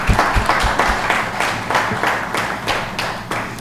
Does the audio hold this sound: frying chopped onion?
no